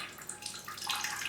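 Water poured onto a potted plant in a cool, shady indoor set, a soft continuous splash and trickle into soil lasting about a second, close and fairly quiet with no talk.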